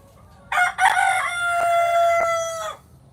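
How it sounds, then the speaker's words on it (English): Pascal's sister, a farm rooster, crows one full cock-a-doodle-doo, loud and close, opening with a couple of sharp rising notes and then holding a long, steady tone before it cuts off. "He's got a beautiful crow to him."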